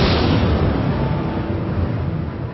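A loud explosion effect standing in for the Big Bang, a dense rumbling roar already at full strength that slowly tapers off across a few seconds.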